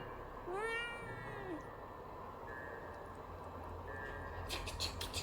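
Cat meowing in the horror video game Fears to Fathom, one drawn-out rising and falling meow near the start, then quieter game ambience and a few soft clicks.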